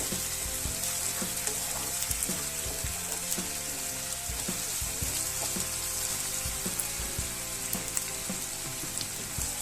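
Chopped onions and tomatoes for egg bhurji sizzle loudly in a pan, a dense continuous crackling hiss with regular scraping and stirring knocks throughout.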